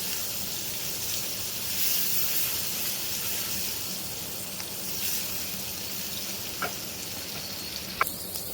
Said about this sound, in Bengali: পেঁয়াজ রসুনটা একটু ভেজে নিব